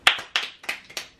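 Five sharp, evenly spaced hand claps from a single person, close and dry, with no talk.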